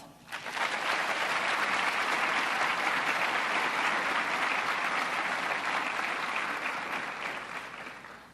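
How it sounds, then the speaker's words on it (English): Sustained audience applause at an Army officer candidate school ceremony at Fort Benning, a dense, steady wash of clapping that swells quickly, holds evenly for several seconds and then tapers. "Please give these two individuals a round of applause."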